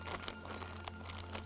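Plastic bag crinkling steadily as food inside is squeezed and broken down by hand, a close, continuous rustle with soft crunchy bursts throughout.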